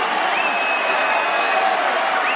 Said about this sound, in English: the crowd stands and cheers Roy Jones